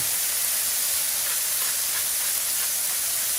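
Loud, steady sizzling hiss of bacon and vegetables frying on a hot Blackstone griddle, a dense crackle that holds constant throughout without speech.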